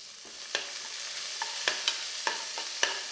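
Onions sauté in a pan with coriander leaves while a spatula stirs them. A faint, even sizzle carries a string of sharp, regular clicks and scrapes, close up and with no speech.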